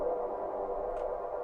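A sustained, washy techno synth pad made from a frozen reverb, sidechain compressed, drones steadily with a dense midrange body and faint high shimmer, no voices, held evenly throughout.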